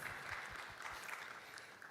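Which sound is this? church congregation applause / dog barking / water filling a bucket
church congregation applause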